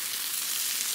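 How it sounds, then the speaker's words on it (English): Steak and potatoes frying on a griddle outdoors along the Blue Ridge Parkway, a dense even hiss of sizzling fat that holds steady throughout, with no talk. "now, we're going to throw on the steak."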